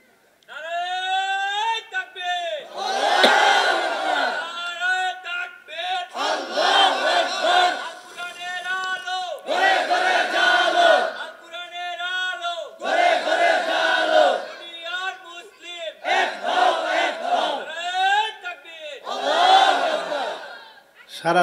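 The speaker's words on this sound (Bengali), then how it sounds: "একজন যুবক এরকম একটা তাকবীর দাও তো দেখি" At a religious gathering, a crowd chants the takbir, Allahu Akbar, in loud, rhythmic bursts of massed voices. The chant repeats about eight times, with short pauses between each one.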